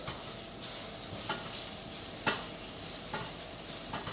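Butter sizzles and spits in a pan while beef gets its final cook and basting with a spoon, a constant soft frying hiss broken by a few sharp crackles and spoon scrapes, fairly quiet with no voices.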